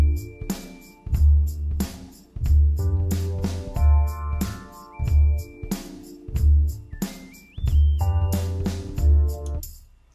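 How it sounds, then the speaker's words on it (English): Mini Moog synth line sitting inside a full groove with thumping bass, drums and keys, a lead tone sliding upward near the end, loud and rhythmic, with no talk. "here's how it sounds with the whole groove going."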